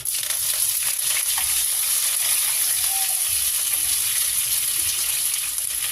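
Curry leaves crackle and sizzle in hot oil with mustard seeds, a steady, loud frying hiss held throughout with no voices.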